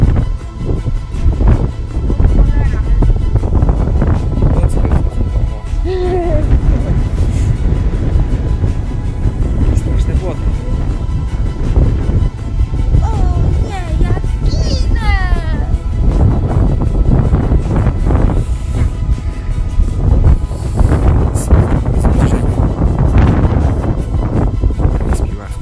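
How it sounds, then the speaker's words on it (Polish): Strong wind buffets the microphone outdoors near allotment gardens, a continuous loud rumbling roar with gusts that swell and dip throughout, masking other sounds. "Wiatr wieje taki, że potem nie będzie można tego słuchać. Mówię, że straszny wiatr wieje."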